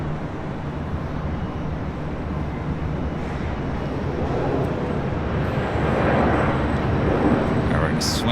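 Air Canada A321 jet from Vancouver arriving at LAX, a broad steady roar that swells slightly as it passes, heard from a distance with wind noise.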